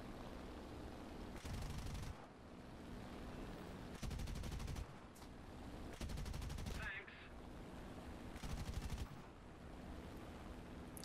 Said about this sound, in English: I'm shooting at him from this distance and hitting him